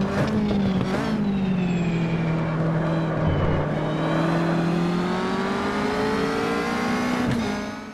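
A Caterham race car in the Automobilista racing game drones on a sustained engine note that dips and then climbs as the car accelerates, with brief shifts near the start and end.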